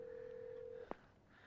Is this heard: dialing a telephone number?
yes